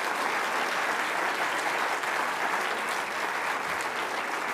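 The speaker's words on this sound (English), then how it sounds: "One last clap for Mordecai Loganda." Steady applause from a large audience fills the room, continuous and loud throughout, with no pause.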